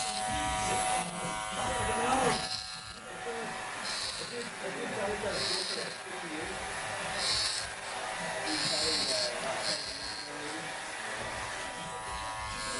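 An Andis Masters cordless hair clipper buzzes steadily and closely while cutting a taper, with a continuous motor hum that dips slightly as it moves through the hair, under ongoing talk.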